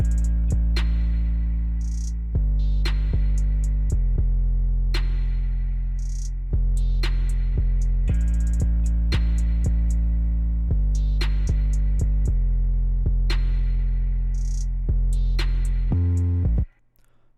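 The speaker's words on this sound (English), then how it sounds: "I'm now going to play all of the drums together." A simple electronic drum beat from a music production session, with booming sustained bass hits under regular sharp snare and hi-hat strikes, loud, close and continuous, cutting off abruptly at the end.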